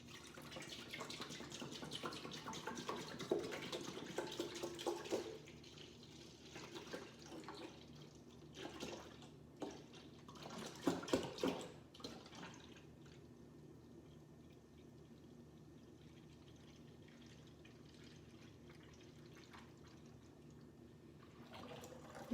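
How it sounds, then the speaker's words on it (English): A gallon of milk pours into a pot holding dissolved citric acid, giving a steady, faint liquid stream for about five seconds, then softer splashes and quiet trickles. "we're going to put this whole gallon of milk in with that citric acid"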